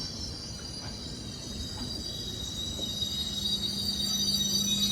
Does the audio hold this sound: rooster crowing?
no